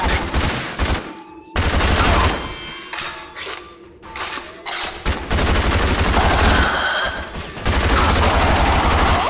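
Heavy gunfire in the shooter game Rage, loud dense bursts of rapid shots with thuds, broken by short quieter gaps before resuming at full intensity.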